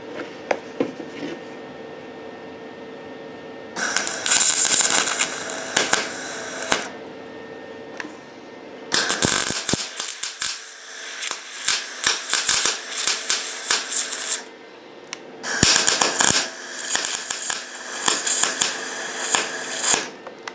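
A MIG welder tacks cast iron together, giving bursts of loud crackling, sputtering arc noise separated by quieter pauses, three main bursts close to the microphone.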